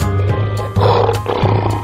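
A lion roars in a few loud, close bursts with brief pauses between them and no talking.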